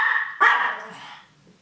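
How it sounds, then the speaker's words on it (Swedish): A dog gives a couple of close barks, a short yelp followed by a sharper bark that trails off into a whine, with no talking over it. "Vad skäller du för en gång?"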